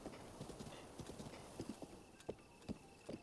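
Horse hooves clip-clop in The Legend of Zelda: Breath of the Wild, a quiet, uneven run of soft thuds at a trotting pace, with a faint whinny and low background game sound.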